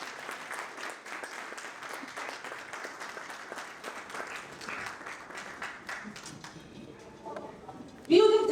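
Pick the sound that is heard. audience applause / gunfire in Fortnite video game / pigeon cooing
audience applause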